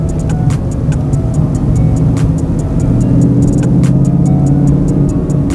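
A Ford Mustang engine runs on a Bama Rev-X tune, a steady close-up rumbling idle with sharp periodic ticking clicks over the low drone.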